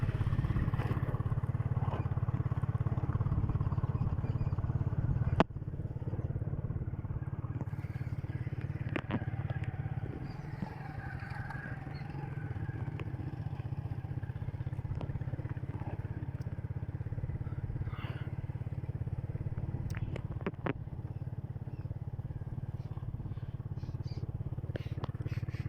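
A motorcycle rides on a rural road during the monsoon rainy season, its steady engine drone close and continuous throughout, with occasional clicks and rattles and some wind noise.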